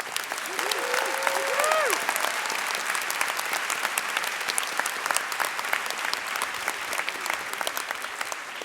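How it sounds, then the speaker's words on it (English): Audience applause fills a large outdoor university engineering graduate commencement ceremony, steady dense clapping mixed with a few cheers, loud and sustained from start to finish. "Let's give her a cheer."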